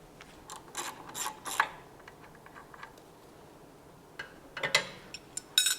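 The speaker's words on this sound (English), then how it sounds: "you can remove the shock itself from the mount by taking off the nut at the bottom of the mount, which is a 17mm nut" A wrench ratcheting a 17mm nut off the bottom of a coilover strut mount on a BMW E9x, short metallic clicking bursts close by, separated by quiet gaps, no voice.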